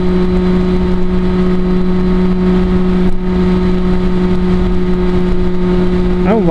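A Derbi Senda 50cc motorcycle engine held at wide open throttle, a loud, steady, high buzzing drone with strong tonal whine that barely changes pitch, close up and continuous with rushing wind noise and no voices.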